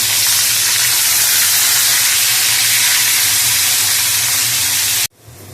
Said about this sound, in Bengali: এর মধ্যে এখন একটা তেজপাতা দিলাম, আর এখানে আছে রসুন, কাঁচামরিচ আর পেঁয়াজ কুচি। এগুলো একটু ভেজে নেব।